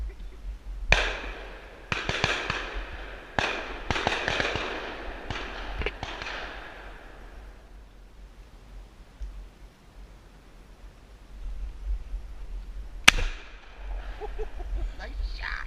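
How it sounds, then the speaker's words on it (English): Shotgun blasts ring out during a bird hunt with a semi-automatic, a rapid series of sharp, loud reports, then a quieter gap and a final single shot; voices of hunters are heard in the field. "And he's shooting 4 or 5 rounds at a clip."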